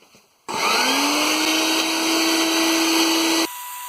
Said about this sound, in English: I'm going to go get the vacuum.